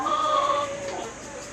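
Tiny chicks in a nursery pen of a tropical chicken coop, a brief close run of soft clucking and thin peeping calls over a steady background hum.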